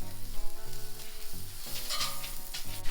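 Butter and two filleted Eckrich smoky breakfast links sizzle in a pan beside a toasting grilled cheese sandwich, a busy frying crackle with rhythmic pulses in the low end, as though something is moved or stirred.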